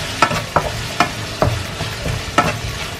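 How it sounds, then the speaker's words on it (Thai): Pork belly is stir-fried with Japanese pizza sauce in a pan, a steady close sizzle punctuated by about six sharp scraping clacks of a spatula against the pan at uneven intervals, with no talking. "ผัดไปเลยมันจะเหนียวเหนียวหนึบหนึบ"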